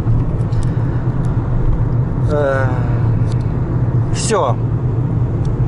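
Car interior on a drive home in 32-degree heat, with a steady loud engine and road rumble throughout and a brief voice speaking over it.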